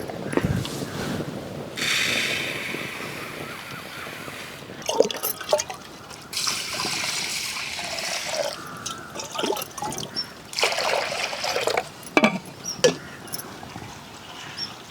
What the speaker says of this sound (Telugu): ఈ పెసరపప్పు 1-2 సార్లు శుభ్రంగా కడుక్కోవాలి.